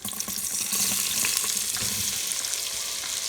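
Chopped onion sizzles and fries in hot bacon grease, a dense, steady crackle close up with faint stirring, no voices.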